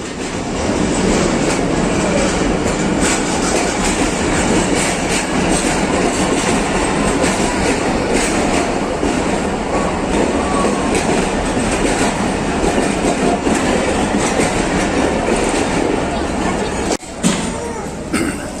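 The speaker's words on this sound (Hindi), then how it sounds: "तो ट्रेन प्लेटफार्म पे आ चुकी है" The Awam Express of Pakistan Railways rolls into Rawalpindi station, a loud, close, continuous rumble of carriages with clattering wheels and a short screech near the end.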